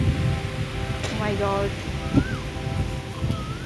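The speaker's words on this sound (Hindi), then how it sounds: "हवा चल पड़ी।" Wind gusts through a garden of cucumber seedlings and marigold beds, a broad steady rushing and rustling noise running throughout, with a voice exclaiming briefly over it.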